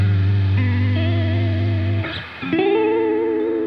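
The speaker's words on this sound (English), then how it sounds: "You can get some lovely chorus vibrato sounds in there" Electric guitar played through an effects pedal set to a sine-wave chorus vibrato, sustained wavering notes that warble steadily, with a brief pause before a new chord rings out.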